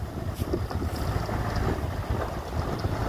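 Steady wind buffets the microphone at a logging site, a continuous low rumble with gusty fluctuations and no voices.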